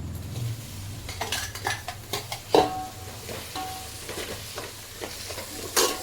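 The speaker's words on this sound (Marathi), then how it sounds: "फक्त आपण टॅमॅटोची पेस्ट टाकूया" Tomato paste going into a pot of crab biryani masala, with clinks and scrapes of a spoon against the metal pot, stirring and a low sizzle of frying, close by and with no talk.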